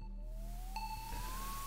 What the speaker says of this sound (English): That's the sound of a vacuum if I've ever heard one.